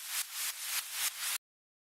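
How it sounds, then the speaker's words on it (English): Bursts of hissing white noise from electronic music software pulse in a regular rhythm, five swelling hiss pulses back to back, then cut off abruptly into silence. "Yeah, I had some cool white noise."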